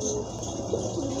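A pair of Bombay pigeons offered for sale coo softly and briefly, a low murmur against a noisy, steady background.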